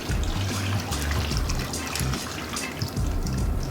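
Water pours from a tap into a cooking pot holding potatoes, a steady close trickling and splashing stream that runs throughout without pause.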